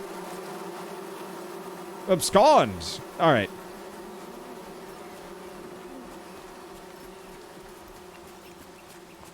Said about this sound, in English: yet more bees